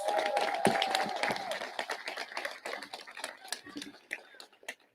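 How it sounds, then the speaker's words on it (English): A graduation audience at March Mountain High School's 2021 ceremony claps for the valedictorian: a burst of crisp, scattered hand claps that thins out over several seconds, with voices and chatter under it. "Let's give Heather another round of applause"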